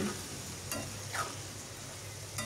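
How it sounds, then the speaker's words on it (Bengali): Spice paste for egg curry sautéing in a pan, a steady sizzle with a couple of brief scraping stirs, close and continuous with no talking. "এর জন্য এর সাথে দিয়ে আমি খুব ভালোভাবে কষিয়ে নিচ্ছি।"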